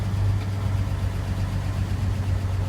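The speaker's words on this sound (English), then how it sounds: "And I kind of adjust the idle with the throttle button there." The engine of a 1947 GMC truck idles with a steady low rumble and slight uneven pulsing, close and continuous, with no voices.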